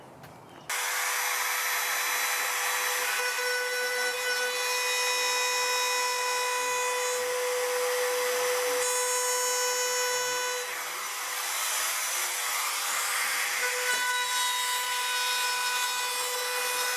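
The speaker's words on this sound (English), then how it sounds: "I think I'm gonna cut this groove a little wider" A saw or power cutter widens a groove in a teak top for a fiberglass anchor box, a steady whining, rasping cut at close range that runs nearly the whole time with only a brief dip.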